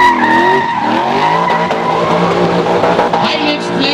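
A drift car with a 5-litre V8 skids loudly at a drift show, tires squealing in long wavering tones over a roaring engine, close and continuous.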